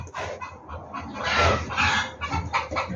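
A hen clucking nearby, a few short throaty calls in quick succession over a quiet farmyard background.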